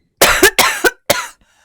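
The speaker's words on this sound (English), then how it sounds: "I've got a stupid cough." An adult coughs three times in quick bursts, close and loud, with short silent gaps between them and nothing else in the background.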